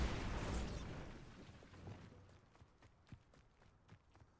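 A Bombarda blasting spell goes off in Hogwarts Legacy as one loud, broad explosion that slowly decays, followed by faint scattered thuds and footsteps.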